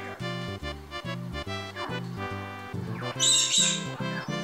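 A bird squawks repeatedly in loud, harsh, rhythmic bursts with a few higher shrill calls partway through, close and continuous, with no talking.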